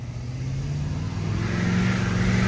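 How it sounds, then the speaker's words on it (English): A Peterbilt truck's diesel engine pulls hard under load, a steady low rumble with strong harmonics that builds and grows slightly louder over a couple of seconds, close and continuous. "This truck sounds so good when you put it under a load."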